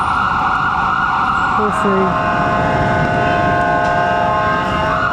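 An ambulance siren on a Boston street, a loud wailing tone sustained and shifting in pitch as it passes nearby over steady traffic noise, with a voice speaking briefly.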